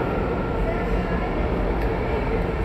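Underground subway station beneath the Museum of Natural History, a dense low rumble of a train moving through the platform area, steady and loud across the short stretch.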